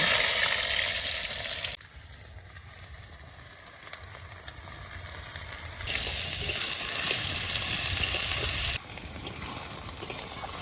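Sliced onions go into a hot pan for a spicy village-style chicken biryani cooked outdoors, giving a loud, steady sizzle and frying hiss that shifts in intensity as they are stirred, with no talking.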